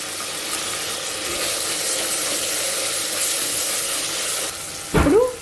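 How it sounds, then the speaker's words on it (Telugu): Chopped onions and tomatoes fry in a pan with a steady, even sizzle, ending in a brief metallic clank near the close. "ఇప్పుడు వీటిని ఒక రెండు నిమిషాలు ఫ్రై చేసుకోవాలి చూడండి ఉల్లిపాయ ముక్కలు ఈ విధంగా వేగాలి"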